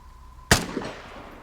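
A single loud, sharp gunshot in the Vigor video game, close and abrupt, followed by a short decaying tail and a faint secondary thud.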